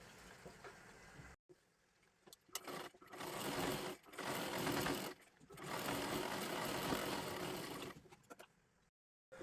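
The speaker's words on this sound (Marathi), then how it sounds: "आता इथे सुद्धा खालच्या बाजूला व्यवस्थित शिलाई मारून घ्यायची आहे" A sewing machine stitches along the lower edge of a blouse in several bursts, running steadily for a few seconds at a time, with short pauses between runs and no voices.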